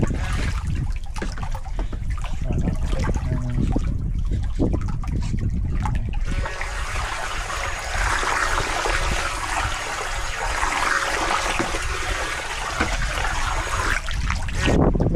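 A Ty Xin TX 693 Sea-God 6 brushless RC jet boat runs on the water, its motor whine over constant splashing and wash, steady and fairly close with brief lulls, no voices.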